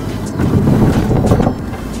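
Porsche 718 Boxster S with its new turbocharged flat-four engine, a steady, loud, close broadband drone with a low rumble and wind-like rush throughout, no talking over it.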